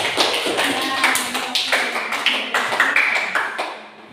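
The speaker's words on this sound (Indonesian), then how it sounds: "kasih tepuk tangan dulu karena Ojit sudah" A classroom group claps for a student during a teaching-practice lesson, a steady patter of many hands close by for about four seconds, tapering off at the end.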